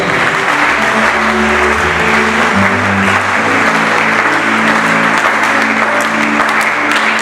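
A church congregation applauding for the Lord, loud and continuous clapping from a large crowd, with a sustained organ or keyboard chord underneath throughout.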